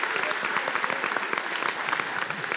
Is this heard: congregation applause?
yes